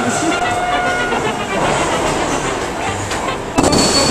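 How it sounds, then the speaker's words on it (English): A train rushes past close by, a steady loud roar and rattle that ends in a sharp clatter. "That was the train."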